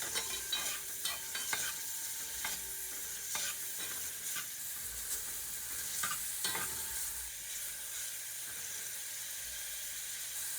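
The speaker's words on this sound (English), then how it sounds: "You can hear it sizzling already." Ingredients sauté in a pot for Puerto Rican rice and beans, giving a soft, steady sizzle with intermittent stirring scrapes and clicks, fairly quiet and close.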